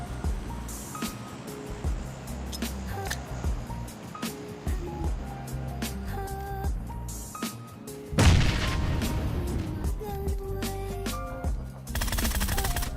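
K98 bolt-action rifle gunfire in the mobile battle royale game PUBG Mobile, with sharp shots and booming reports over a busy game soundscape and background music, one louder burst standing out midway.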